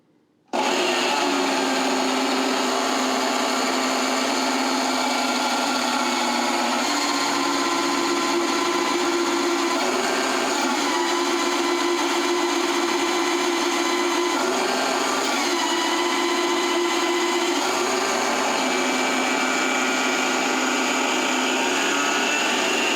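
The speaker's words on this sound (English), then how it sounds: "we'll see if we can drill a hole in this piece of steel I've got in the chuck here" A 1973 drill press with a 25,000 RPM spindle drilling a 5/16 hole in steel: a steady, high-pitched machine whine runs continuously for over twenty seconds, with slight dips in pitch as the drill bites into metal.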